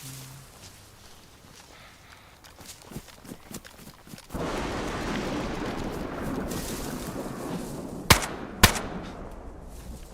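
Two sharp gunshots ring out in DayZ near the end, loud and distinct over a steady background rumble and scattered movement noises.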